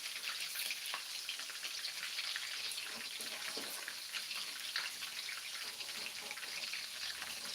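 Chicken frying in oil for ayam goreng, a dense steady crackle of spattering and popping bubbles that runs the whole time at moderate loudness, with no voices.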